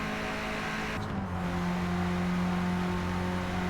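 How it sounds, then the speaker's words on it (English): Simulated race car engine in Forza Motorsport, steady droning note that shifts pitch around the one-second mark as the car brakes and drops gears, continuous and fairly loud with no talk. "I'm braking now. And going down the gears."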